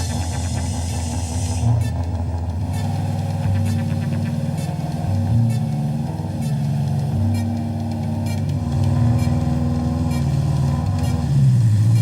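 Heavy engines drone steadily and loudly, a low throbbing rumble of a convoy of trucks carrying rally team equipment rolling along together without pause.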